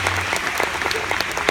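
Dense, steady applause from a church audience during a sermon on dating, many hands clapping at once in a continuous patter at moderate loudness, with no one speaking over it.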